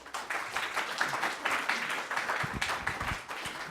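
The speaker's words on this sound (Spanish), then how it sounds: "Por favor, recibámoslo con un fuerte aplauso." An audience at a sustainability lecture claps steadily for a few seconds, a dense, moderately loud wash of many hands with some nearer individual claps toward the end, no talking.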